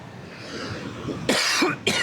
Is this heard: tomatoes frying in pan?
no